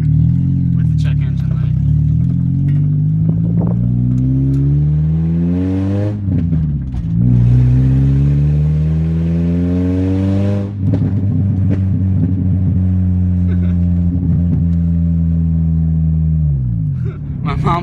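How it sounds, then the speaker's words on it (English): A car engine revs up repeatedly, pitch climbing and dropping through gear changes, with sharp pops and crackles between pulls; close and loud. "So as you can hear, it backfires almost instantly every time."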